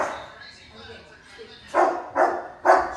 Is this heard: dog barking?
yes